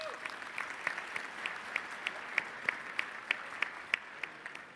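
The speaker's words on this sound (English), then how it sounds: "Let's give them a round of applause." An event audience applauds at a formal ceremony, a faint, even patter of clapping with sharper claps recurring at a steady rhythm throughout.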